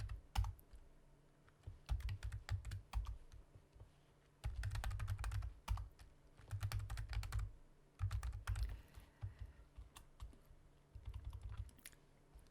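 Computer keyboard arrow and Enter keys pressed while moving through a spreadsheet, close and crisp, in irregular bursts of clicking and tapping with short pauses between runs.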